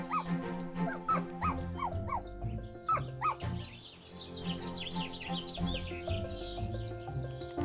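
Dogs bark repeatedly at a stray in a hand-drawn cat adventure game, sharp yaps in quick bursts with faint bird chirps in the background.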